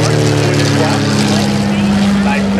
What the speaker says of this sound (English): Now the PT aircraft is powered by a Ranger engine, about 200 horsepower.